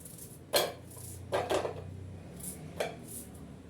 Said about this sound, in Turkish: En iyisi doğracıyı çıkartayım.